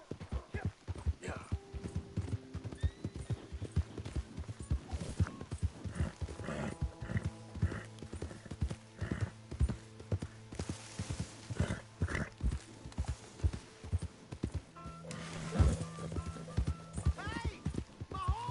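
Horse hooves clopping steadily with occasional neighs in Red Dead Redemption 2, close and busy, mixed with people talking over the hoofbeats.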